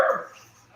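Indoors, a dog gives a single loud, close bark that fades quickly into a quiet background.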